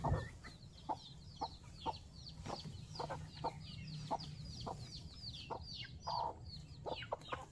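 Hungry chickens being fed, with repeated short clucks and chirps from the flock, some near and some farther off, over a low outdoor background rumble.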